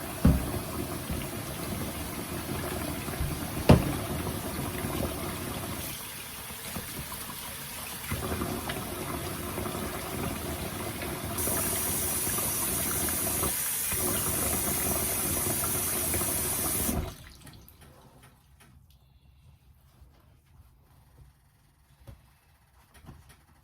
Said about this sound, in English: First thing we're gonna do is wash our hands.